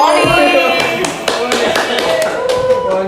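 Hands clap in a quick, irregular series of sharp slaps close by, with voices talking over them.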